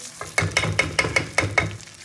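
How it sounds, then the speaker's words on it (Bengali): Washed rice frying in hot ghee while being stirred, a steady sizzle broken by about six rhythmic scraping strokes across the pan, close and fairly loud with no voices. "চালটা ঘিয়ের সঙ্গে খুব ভালো করে চালটাকেও ভেজে নেবো"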